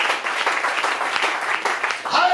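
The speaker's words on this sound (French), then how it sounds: "Clap for Jesus Christ." A church congregation claps together in a steady, dense burst of applause that fills the room. Voices are mixed in underneath the clapping.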